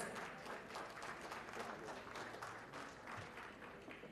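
An audience at a university anniversary academic ceremony applauds award winners in a continuous, evenly textured wash of clapping, captured faintly as if from a distance.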